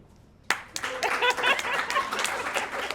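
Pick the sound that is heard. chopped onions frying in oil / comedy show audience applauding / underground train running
comedy show audience applauding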